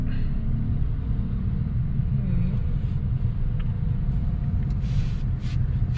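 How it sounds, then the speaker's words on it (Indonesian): Continuous low rumble of engines from a total traffic jam creeping along a road in Bekasi, Indonesia, on a Saturday night, steady and close with no distinct horns or revving. "Bekasi macet total."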